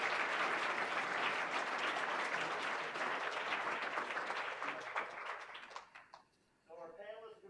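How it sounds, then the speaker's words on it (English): A conference audience applauds a hospital panel with a big round of loud, full clapping that thins out and fades near the end, followed by a brief voice. "let's give our panelists a big round of applause"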